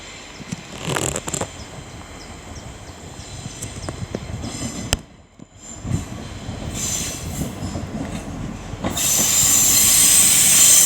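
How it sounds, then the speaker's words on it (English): A diesel passenger train rolls through Liverpool South Parkway station close by with rumbling wheels, rhythmic clatter over the rails and bursts of high metallic squeal, growing louder toward the end. "working the heavily delayed 1218 East Midlands Railway service from Norwich to Liverpool Lime Street"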